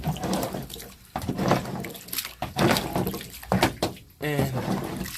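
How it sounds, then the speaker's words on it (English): Water bailed out of a Honda's interior during washing and sound-deadening removal, with repeated close scooping, sloshing and pouring splashes in uneven bursts and a brief voice partway through. "I'll just bail the water off."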